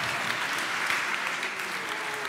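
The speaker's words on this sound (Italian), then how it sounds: "Tenete gli applausi per dopo" Audience applause at the opening of a technology policy conference, a continuous dense clapping from a large room that stays level and full for the whole short stretch.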